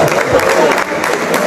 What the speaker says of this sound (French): Est-ce qu'on peut acclamer pour maman Bobette?